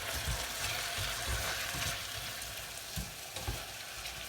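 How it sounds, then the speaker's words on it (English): Tiger prawns sizzle and fry in a hot pan alongside chorizo, a steady crackling hiss with occasional louder pops and the scrape of the food being turned, close and unaccompanied by talk. "prawns are ready. Move them over, give them a little turn."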